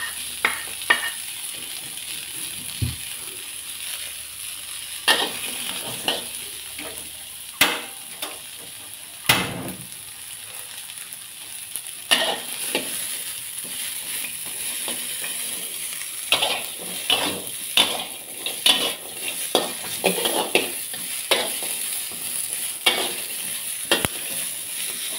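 Kale stems stir-fry in a wok over a steady background sizzle, with irregular knocks and scrapes of the spatula against the pan, close and moderately loud throughout.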